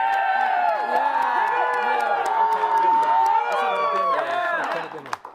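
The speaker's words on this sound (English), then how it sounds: "Cheer the loudest for who you think won." An audience of children and adults at a school event cheers and whoops loudly to vote for a winner, a dense, close crowd of shrieks and shouts that swells and then trails off.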